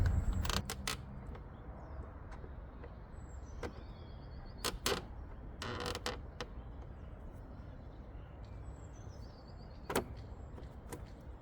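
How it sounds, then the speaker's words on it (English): A flat-head screwdriver pries out a plastic trim clip on a BMW 320i E46, giving a few sharp clicks and creaks between quieter fiddling, close and fairly faint. "you just want a flat head or something to try and pry out this with a clip if you haven't got a trim tool"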